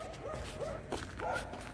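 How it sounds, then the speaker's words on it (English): Stray dogs in Thimphu, Bhutan, give a few short, yipping barks at moderate distance on a morning street, spread over under two seconds. "here you can see the dogs chasing a car, a bolero"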